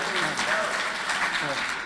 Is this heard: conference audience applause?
yes